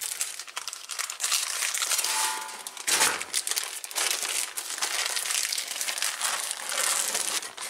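Baking paper peeled slowly from a cooled sponge cake roll, giving a steady, close crinkling and crackling that runs the whole time with brief pauses, with no talking.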